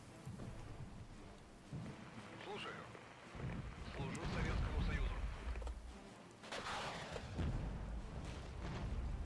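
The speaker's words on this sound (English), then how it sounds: "We'll call in the missile strike." Missile strike explosion in the war video game Regiments, heard as deep rumbling booms that swell and roll over several seconds, with someone talking over them.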